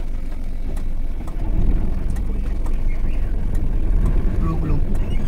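A car in reverse gear driven by a learner daughter, a low engine hum rumbling steadily close by while someone speaks over it giving instructions.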